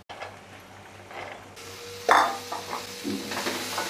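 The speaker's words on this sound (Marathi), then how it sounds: "ही भाजी आहे ना ती परतून घ्यायची आपल्याला" Chopped French beans are sautéed with spices in a pan, a soft steady sizzle with a couple of stirring scrapes and light clinks, close by.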